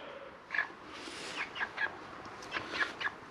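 Backyard chickens clucking and a rooster giving short soft calls, several brief bursts scattered across a few seconds at moderate distance, faint and unaccompanied by speech.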